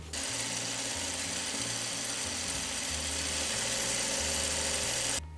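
Sewing machine stitching a log cabin quilt block, a close, steady mechanical whir with a rhythmic pulsing hum that runs continuously for about five seconds, then stops abruptly.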